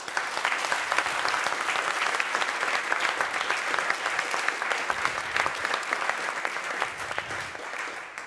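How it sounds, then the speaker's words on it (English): Audience applause at a closing ceremony in the Canton de Neuchâtel, a large crowd clapping steadily and loudly throughout, a dense continuous patter heard from within the hall. "I would like to ask you to applaud only between the levels"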